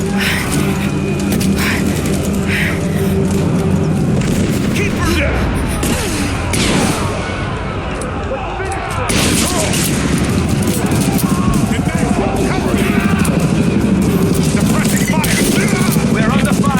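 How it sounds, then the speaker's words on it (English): Dense bursts of gunfire and heavy booms fill a firefight at the edge of a village in the video game Rise of the Tomb Raider, continuous rapid shots and blasts running throughout with voices talking over them. "We're under fire at the edge of the village."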